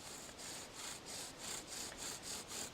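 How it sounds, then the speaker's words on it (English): Rhythmic back-and-forth grinding of a bow drill against wet wood, steady strokes repeating about three times a second, close and fairly quiet. "Same as a dry bow drill, same principle."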